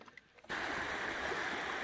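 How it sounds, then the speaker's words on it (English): Gersel River in Alaska rushing past as a steady broadband wash of flowing water, starting abruptly after a quiet half-second and then holding loud and constant to the end. "We are in Alaska by the Gersel River."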